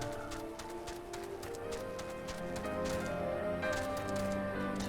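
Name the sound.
water horse mount hooves in Final Fantasy 14 video game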